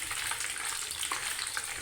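Puri frying in hot oil, a steady crackling sizzle with fine bubbling, close but fairly quiet, no voices over it.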